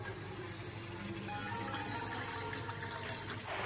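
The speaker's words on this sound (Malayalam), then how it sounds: "കുറച്ച് വെള്ളം അതിലേക്ക് ഒഴിച്ചു കൊടുക്കാം" Water poured into a pot on the stove for sulaimani tea, a steady continuous splashing stream that runs without pause before cutting off at the end, with no talking.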